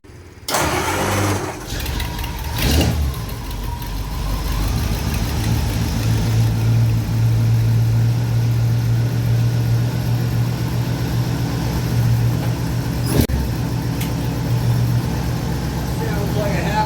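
A 1951 Mercury flathead V8 cranks and fires, then settles into a steady, loud idle with a low rumbling throb; a few clicks and brief handling noises break in along the way.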